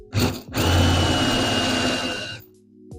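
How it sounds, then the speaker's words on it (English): A drill fitted with a countersinking bit finishes a hole in metal: a short burst, then a loud, steady whine for about two seconds that winds down before a brief clatter. "Then we take our actual countersinking bit over here, switcherooski, and we give it a nice finish."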